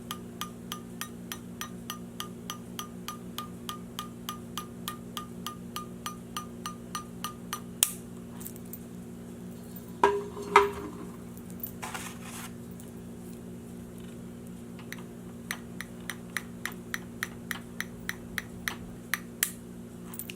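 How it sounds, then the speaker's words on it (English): A boiled egg's shell is tapped over and over to loosen it for peeling, a long run of small, evenly spaced light clicks against a quiet steady hum, with a brief louder crackle near the middle. "Depending on how thick the shell is as to how many times you tap."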